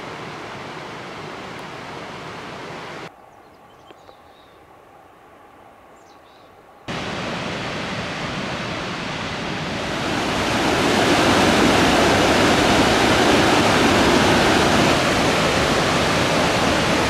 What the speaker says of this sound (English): Sounds like there's a lot of turmoil down there. Maybe just a lot of waterfalls or something.